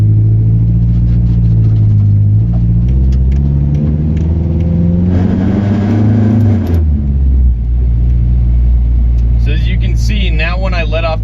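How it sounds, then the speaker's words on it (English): Turbocharged Nissan 240SX with a shop-vac hose intake, its engine droning loud and close as the revs climb and fall, with bursts of exhaust banging near the end and a voice talking over it. "That's the exhaust banging."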